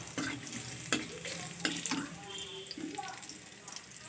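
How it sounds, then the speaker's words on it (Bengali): Garlic and a split dried red chili temper in hot oil for a mulo shak dish, a soft, close crackle and sizzle broken by a few scraping stirs of the pan. "রসুনটা দিয়ে একটু নাড়াচাড়া করে তাতে একটা লং শুকনো লঙ্কা চিড়ে নিলাম চিড়ে ফোড়নে দিলাম"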